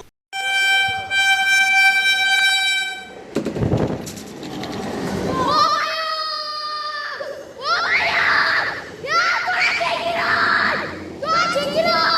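At a railway track in Mumbai, a train horn blares with strong steady tones, then rumbling rail noise and clattering wagons pass close by, with more horn blasts and shouting voices mixed in.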